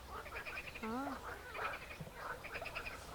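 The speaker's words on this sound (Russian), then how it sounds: "Там лягушки." Frogs croak in a steady chorus along the Dniester River near Soroca, with voices talking over and through the calls.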